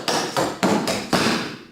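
Tap shoes strike a hard floor in three sharp, evenly spaced beats, each ringing out briefly before the next, close and loud with no voices over them, as in a Singin' in the Rain tap routine.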